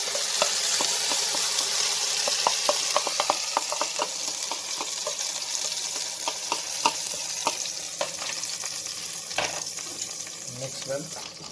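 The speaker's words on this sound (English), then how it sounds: "Now I'm going to add chili paste." Green chilli paste sizzling and frying in melted ghee, a loud continuous crackling hiss with scattered pops and stirring scrapes, close up and without talk.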